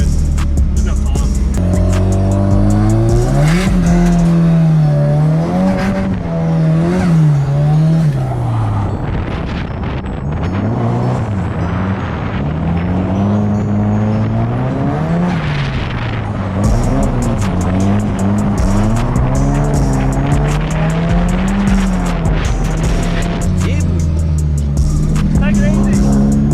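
A drift car on a private drift day at Raleigh Raceway roars loudly and continuously, the engine revving up and down while tires squeal throughout, close to the listener and filling the whole stretch.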